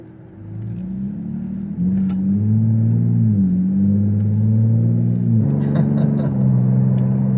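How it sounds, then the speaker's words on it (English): A Ford Bronco Raptor's deep exhaust drones steadily while driving, its low rumble rising slightly as it accelerates, loud and close throughout. "the exhaust is pretty. It's pretty cool having it that much. You just hear it that much more."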